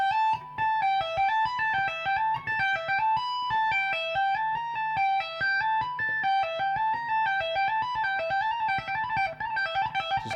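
Electric guitar playing fast tapped blues-scale lines with pinky hammer-ons, a steady stream of bright, quick legato notes running continuously at even volume with no talking.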